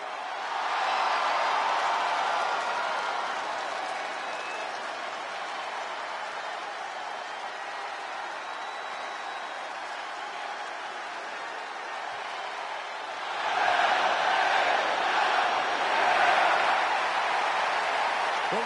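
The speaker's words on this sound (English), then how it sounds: "the roar of the crowd tells you all you need to know" A large wrestling arena crowd roars and cheers continuously for LA Knight, a steady wash of distant voices and applause that swells louder near the end.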